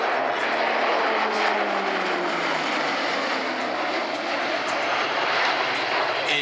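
Grumman E-2 Hawkeye propeller aircraft flying past at the La Ferté-Alais airshow, a loud steady drone of turboprop engines with a slowly falling pitch as it passes.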